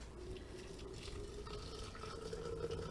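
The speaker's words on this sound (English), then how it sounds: "Okay, my water is done boiling, and I'm going to just fill this up." Freshly boiled water is poured into a container to make iced tea, a steady close liquid filling sound with a faintly rising tone and no talk.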